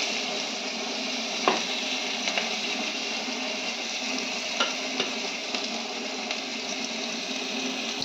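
A little onion fries in a pan for lote shutki, giving a constant moderate sizzle with a few light taps and scrapes of a spoon.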